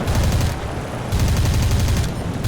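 Rapid bursts of aircraft cannon and machine-gun fire from a Hurricane Mk IIB in a War Thunder arcade dogfight, two loud sustained volleys separated by a short gap, dense and continuous with no talk.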